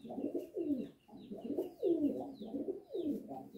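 Several pigeons in a loft coo in repeated soft, low, throaty phrases, layered and continuous, with faint higher chirps in the background and no talking.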